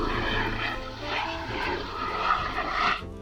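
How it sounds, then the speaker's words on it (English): A low-flying helicopter drones overhead with a throbbing rotor pulse that swells and fades, fairly loud and close, with no speech, in the UK. "that was a pretty low-flying helicopter"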